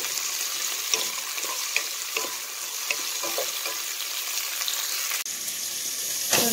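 Tomatoes sauté with garlic and onion in a pan, a steady close sizzle with repeated stirring scrapes. A brief clunk comes near the end, and no one speaks.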